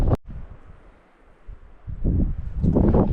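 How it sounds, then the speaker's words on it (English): Strong gusting wind on a coastal walk near Portpatrick in Scotland buffets the microphone, with loud rumbling wind noise that dips briefly before surging back harder. "the audio was going to be so bad today, just because how windy it is"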